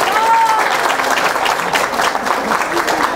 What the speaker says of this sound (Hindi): उसी के लिए जोरदार तालियां दीजिएगा